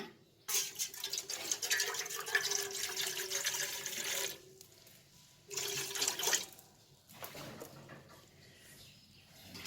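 Water is poured from a 1.5-litre bottle into a pot, about 500 ml for boiling mangoes, heard as two close, splashy streams, a long one and then a shorter one, with no talking.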